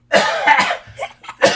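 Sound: cough

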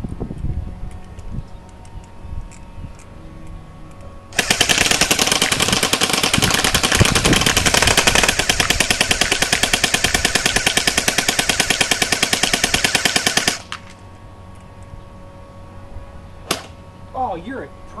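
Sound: rapid gunfire shooting at squirrels

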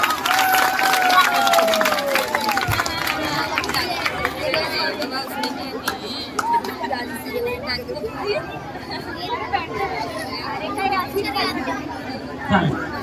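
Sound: audience applause for a child actress

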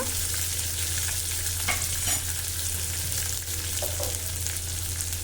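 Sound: frying and stirring taro root in a pan

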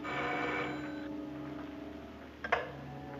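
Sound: telephone ringing

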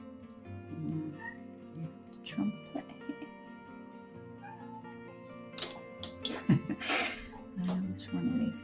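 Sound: cats meowing

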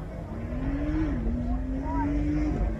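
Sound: Porsche cars driving in festival parade

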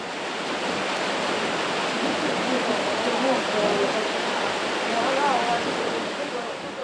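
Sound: flowing water at an old watermill

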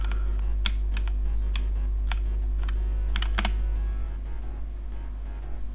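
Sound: computer keyboard typing

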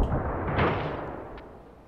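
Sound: jeep exploding in the video game Ravenfield

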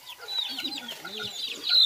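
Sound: rooster clucking

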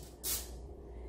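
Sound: cooking spray sprayed into a measuring cup

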